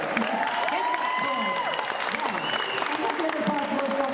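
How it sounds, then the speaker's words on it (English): Audience applause fills a Manchester comic con hall, a dense, steady clatter of clapping that holds for several seconds while a voice keeps talking over it. "Round of applause, as you should."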